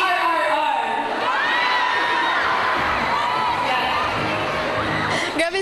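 A large outdoor concert crowd at a Kapamilya Caravan show cheers and sings along loudly and continuously, with shouts and whoops rising over a steady wall of voices, close and full throughout.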